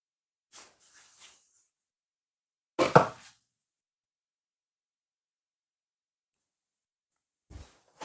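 A knife cuts through rolled-out Jamaican bulla dough in a few short, separate strokes with soft scraping against the board and silence between them.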